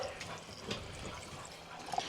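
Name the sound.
pouring water into jars of dry beans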